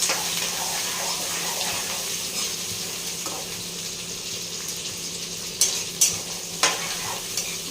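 Onions frying in a pan for chicken curry give a steady, close sizzle throughout, broken near the end by a few sharp scrapes of a stirring spoon, with no talking.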